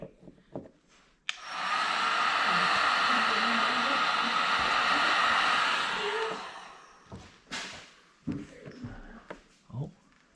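A heat gun blasts steadily for about five seconds, warming wrinkled tint film on a Camry tail light, with brief voices and handling noises before and after.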